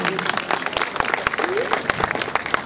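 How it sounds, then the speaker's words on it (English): Scattered clapping from an outdoor crowd at a children's museum ribbon cutting, honoring the DJ, with irregular sharp claps mixed with voices and chatter throughout the short stretch. "Let's give a big round of applause to our DJ."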